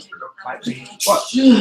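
A quick, sharp sneeze bursts out close by in the middle of casual conversation, with people talking just before and right after it.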